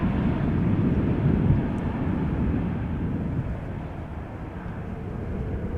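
An airliner taking off from the Polderbaan runway 36L at Amsterdam Schiphol Airport, a steady low, rumbling jet roar heard from a distance, holding constant throughout without talk.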